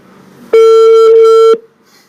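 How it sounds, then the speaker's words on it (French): A telephone rings with a single loud electronic tone that holds steady for about a second and then cuts off, with no talking over it. "Au moins, tu vois que ça sonne."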